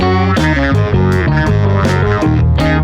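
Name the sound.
music example in 4/4 time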